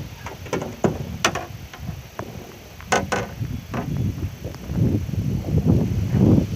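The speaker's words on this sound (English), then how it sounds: "It's really windy." Steady wind buffets the microphone in low rumbling gusts, with occasional rustles and a few sharp knocks scattered throughout, in the back of a truck near a lakeshore.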